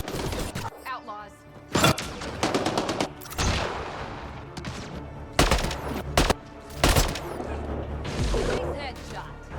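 Gunfire from a shootout with outlaws in Mass Effect: Andromeda, several sharp loud bursts and single shots spaced across the scene, with game dialogue and voices heard between them.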